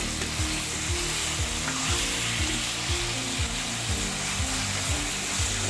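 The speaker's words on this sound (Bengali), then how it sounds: "আলুটা ভেজে একটা আলাদা বাটিতে আমি তুলে ফেলবো।" Potatoes with a little salt frying in hot oil, giving a constant, even, close sizzling hiss over a low repeating hum in the background, with no voices.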